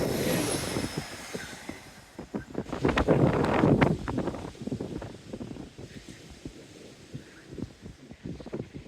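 A train rumbles past along the seafront seawall at Teignmouth, with a rattling, rhythmic clatter that swells and then fades, mixed with gusty wind buffeting the microphone.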